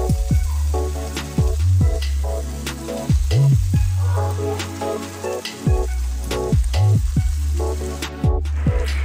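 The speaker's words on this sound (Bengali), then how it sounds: "এবার কাজু বাদাম দিয়ে আমি একটুখানি কষিয়ে নিয়ে ডিমগুলো আমি দিয়ে দিচ্ছি।" Eggs hitting hot korma with cashews in a pan, giving a loud steady sizzle and frying hiss with repeated stirring scrapes, with no voices.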